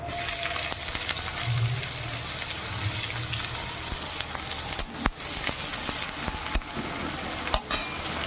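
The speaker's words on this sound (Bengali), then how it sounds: "পেঁয়াজ রসুনগুলো ভেজে নেব" Chopped onion and garlic fry in oil in a wok, giving a steady, close sizzle with occasional sharp clinks and scrapes of stirring, and no talking.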